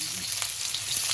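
Homemade lumpia frying in hot oil, a steady, close crackling sizzle that runs without pause across a brief moment, with no voices.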